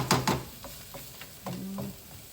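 Onions cook in hot oil with a little hot pepper for brown stewed fish, giving a soft sizzle broken by a few brief stirring scrapes close by.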